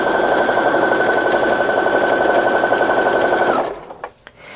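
Sewing machine stitching along a quilt border of a log cabin block with mitered borders, heard as a loud, steady, rapid mechanical whir close up that stops near the end, followed by a few light clicks.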